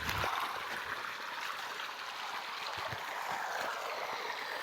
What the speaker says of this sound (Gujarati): હવે અહીં પાણી નીકળી ગયું છે। એટલું પાણી આવે છે।